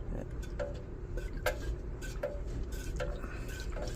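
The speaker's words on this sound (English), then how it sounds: "I'm gonna stir it." Soy wax melted for candles is stirred in a container, giving light, fairly regular scraping clinks and taps of the utensil against the sides over a steady low background hum.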